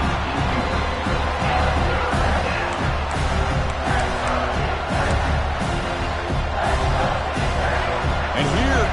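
Dense, steady roar of a college football stadium crowd building noise during a red zone defensive stand, broad and continuous throughout, with a commentator's voice running over it.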